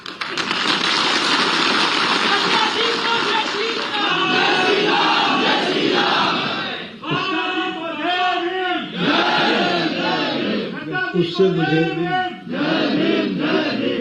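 Large rally crowd in Mumbai chanting slogans, a loud dense roar of many voices that swells continuously, then breaks into rhythmic chanted bursts in the second half.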